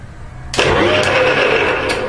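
Wood lathe spinning up to turn a wooden ball, a sudden loud broadband whir that starts abruptly and holds steady with a faint tonal hum, close and alone.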